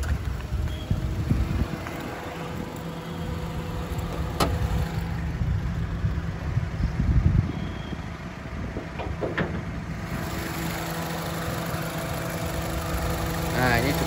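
A 2016 Honda Brio E CVT engine idles steadily with the hood open, a low even hum running throughout with a few faint clicks and handling noises over it.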